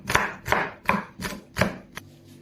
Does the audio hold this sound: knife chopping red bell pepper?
yes